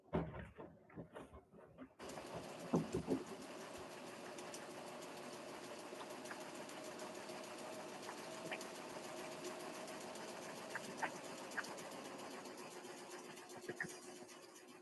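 A washing machine on a long cycle gives a steady, continuous mechanical hum and whir that runs unbroken for most of the stretch, with a few brief knocks and clunks near the start before it settles.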